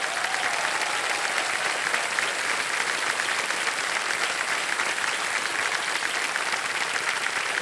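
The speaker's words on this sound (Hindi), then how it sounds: "जोरदार ताली और बज जाए।" A studio audience on a Hindi television quiz show bursts into loud, sustained applause, dense and steady clapping that continues without a break from start to finish.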